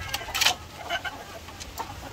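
Bulik gamefowl in a cage give a few short, scattered clucks and scratchy calls at close range, with quiet gaps between them.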